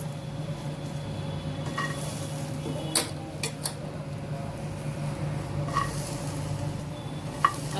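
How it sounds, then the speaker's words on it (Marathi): Green chillies roast on a hot tawa with a steady low sizzle and crackle, a few sharp clicks and scrapes of the pan standing out now and then, with no talking. "तर या तव्यात मिरची भाजूया."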